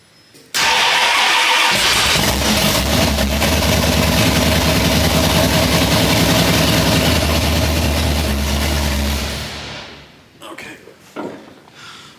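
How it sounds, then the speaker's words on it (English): A car engine cranks and catches, then runs at a loud steady idle for about nine seconds before shutting off, followed by faint clunks. "I might run it for a couple of seconds,"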